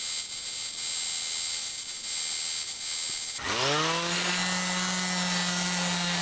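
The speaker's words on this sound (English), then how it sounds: "if I keep the sander flat on the face of the panel, it'll sand that glass off just perfectly" A power sander works fiberglass off the edge of a Nidacore honeycomb panel. A rough steady hiss runs for a few seconds, then the motor spins up sharply and settles into a loud, sustained whine.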